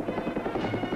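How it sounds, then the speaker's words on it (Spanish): Helicopters flying past in a 1978 Spanish military parade flypast, part of a mass formation of light, medium and heavy army and air force helicopters, giving a steady, loud rotor rumble with pulsing throb throughout. "El desfile aéreo se cierra con 12 helicópteros ligeros del Ejército del Aire y 32 helicópteros pesados, medios y ligeros del Ejército de Tierra."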